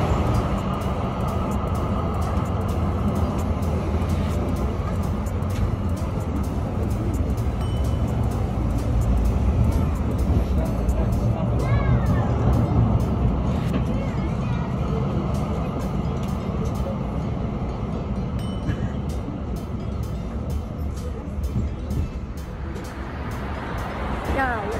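Constant rumble of a crowded moving tram in Kassel, Germany, with rattling and a steady drone, a crowd of voices murmuring throughout, and occasional squeals.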